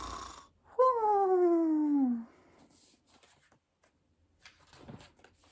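A voice imitates a bear snoring: one long, loud, drawn-out rasping snore with a gently falling pitch that lasts over a second, followed by quiet room tone and faint rustling.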